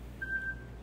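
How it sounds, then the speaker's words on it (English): A new mobile phone gives a single thin, steady electronic beep that starts abruptly and holds evenly before fading, heard faintly over a low room hum in a quiet indoor space. "Do we have a beep going on here?"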